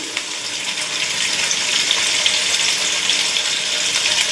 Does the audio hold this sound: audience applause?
no